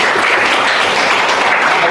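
Students in a classroom burst into loud, dense clapping that stays full and steady throughout, close to the recorder.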